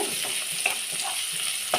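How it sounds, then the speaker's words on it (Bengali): Chopped onion stirred and frying in a pan, with a steady bright sizzle throughout and soft periodic scraping strokes of the spoon, close and moderately loud, no voices. "পেঁয়াজটাকে আমি 1 মিনিট নেড়ে নেব।"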